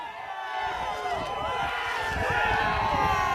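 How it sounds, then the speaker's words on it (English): A rowdy crowd of protesters presses past police barricades, a dense roar of many overlapping shouting voices with running feet beneath it, steady and loud throughout. "there's like a rowdy crowd behind the barricades"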